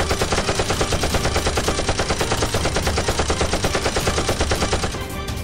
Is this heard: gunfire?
yes